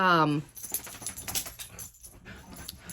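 Pet dogs play indoors with soft whimpers, yips and scuffling, plus a jangling sound like tags or keys, all close and fairly quiet. A voice starts the clip and then gives way to the play noise.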